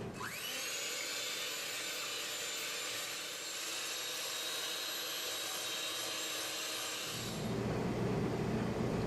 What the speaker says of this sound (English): We are now going to beat our 5 egg whites.